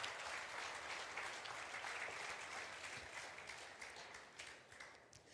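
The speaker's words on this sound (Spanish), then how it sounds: "Dar un aplauso fuerte a nuestro Padre Celestial." Applause from a church congregation during a sermon, a dense, steady roar of many hands clapping together that tapers slightly toward the end, fairly faint overall.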